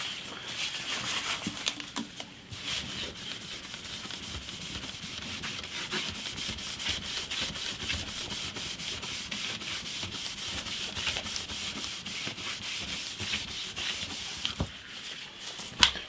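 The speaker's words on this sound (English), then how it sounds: "letting that dry and sanding that off" Steady, continuous sanding on a stained wood surface, an even abrasive rubbing that carries on without pause, close by, with a brief lull near the end.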